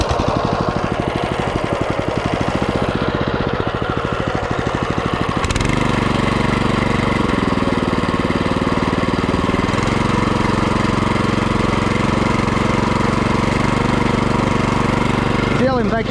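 A Champion BC5712 motor cultivator engine running near and loud. It starts as a rapid idling putter, then revs up to a higher, steady drone with a brief dip partway through and a sharp change near the end.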